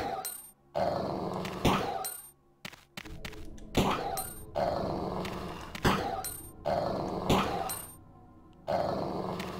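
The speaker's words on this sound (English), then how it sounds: "these dogs are more beefier than the dogs in the first game" Doberman police dogs growling and snarling in the video game Resident Evil 2, repeated aggressive bursts mixed with game sound effects, impacts and short metallic tones, fairly loud and close, with no talk.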